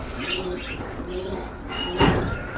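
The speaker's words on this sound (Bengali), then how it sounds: "ঘুঘু পাখি আছে চুইটাল সাদা ঘুঘু দেখতে পাচ্ছেন বন্ধুরা" A pair of white doves coo softly and close by in low, murmuring calls, with a brief rustle or flap near the end.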